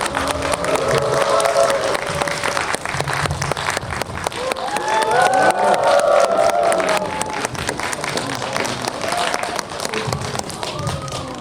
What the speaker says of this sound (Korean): 여러분, 다시 한번 뜨거운 박수 부탁드리겠습니다.